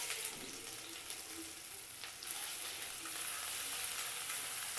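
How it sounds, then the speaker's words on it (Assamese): Ginger, garlic and chili sizzle steadily in hot oil for a fish curry, a continuous crackling fry that grows slightly louder partway through, with no voices. "মই এতিয়া সেইখিনি তেলতে আদা নহৰু আৰু জালুক"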